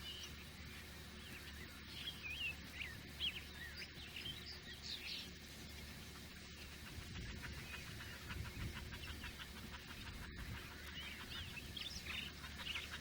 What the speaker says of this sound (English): Got a big flock of red-winged blackbirds over here. They don't sound at all like the ones back in Michigan.